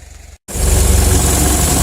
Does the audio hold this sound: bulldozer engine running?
yes